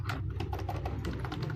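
Quick, uneven keystrokes patter on a computer keyboard while someone enters database table commands, close and fairly soft, without speech.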